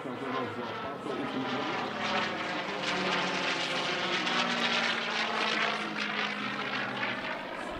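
A P-51D Mustang WWII fighter named Little Rebel flies a display at the Radom airshow, its piston engine and propeller giving a sustained loud drone with shifting pitch as it passes overhead.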